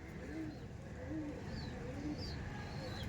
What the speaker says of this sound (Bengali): ডবল পট্টির পায়রা